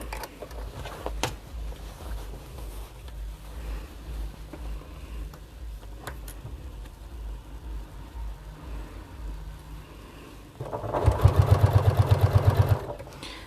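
A sewing machine stitches a long seam on a fabric bag, a steady close rapid mechanical whirr that lasts about two seconds near the end after a quiet stretch with faint handling clicks.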